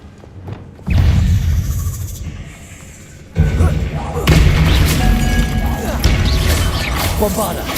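Confringo blasting spells go off in Hogwarts Legacy as heavy booming blasts, one after about a second and another roughly three seconds later, with a dense crashing roar continuing through the rest of the combat.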